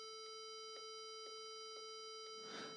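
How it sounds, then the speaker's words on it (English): Regular electronic beeps repeat about twice per second over a steady tonal hum, ending with a brief rustle; no voices. "the beeping seems to be continuous"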